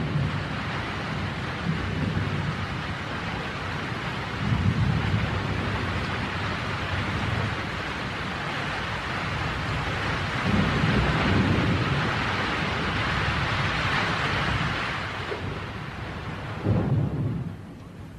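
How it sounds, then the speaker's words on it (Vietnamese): Heavy rain pours steadily in a Hong Kong martial arts comedy film, a dense continuous roar with swells of rolling thunder, easing briefly near the end. "Sao bỗng nhiên trời lại mưa như thác đổ vậy kìa?"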